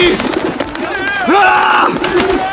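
Doves coo with low, rounded calls in a temple market scene where animals are sold, heard among crowd noise and voices.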